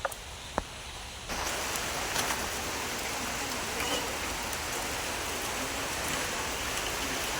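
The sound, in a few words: rain falling at a goat farm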